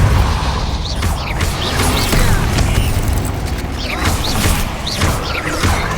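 Magic spell blasts and crashes from a Hogwarts Legacy duel, loud and continuous with layered booms, rattling mechanisms and sharp bursts over a busy battle soundscape.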